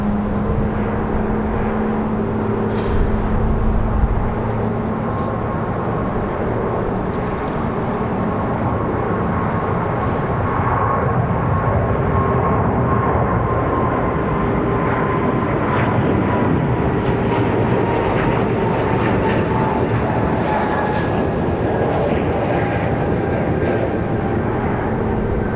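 An airliner departs Raleigh Durham International Airport, a steady, loud jet engine roar with a slowly shifting whine that holds throughout, heard from an outdoor spotting location.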